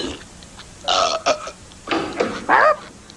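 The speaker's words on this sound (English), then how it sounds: "are you burping again?" Cartoon burps from a Simpsons burp contest: three or four loud, gurgling belches in separate bursts, close and exaggerated, with short quiet gaps between them.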